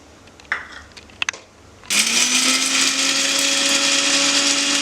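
An electric mixer grinder starts up after a few small clinks and whirs steadily and loudly, grinding pepper and garlic coarsely for rasam.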